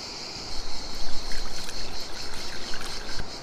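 Water is poured into a cooking pot while giant eggs and bread are prepared, a steady splashing, trickling stream lasting a few seconds, close and moderately loud.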